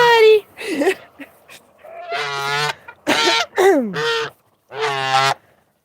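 A pet goose gives a series of loud, close, nasal honks in separate bursts with short pauses between them, some rising and falling in pitch.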